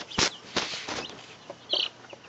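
Silkie chickens make soft clucks and a couple of short, sharper calls, scattered at close range over a quiet background.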